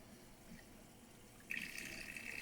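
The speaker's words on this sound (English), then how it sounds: "You can hear the water going through, and the water coming out is going to be very dark." Water starts rushing through the stages of an iSpring RCC7AK reverse osmosis filter, a faint hiss that jumps to a steady, louder flowing sound partway through.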